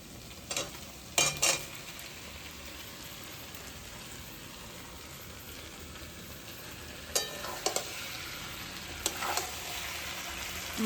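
Chicken pieces go into a hot pan of fried spice paste for spicy chilli chicken and are stirred, giving a soft continuous sizzle with a few sharper scraping clatters of the spoon, faint and alone.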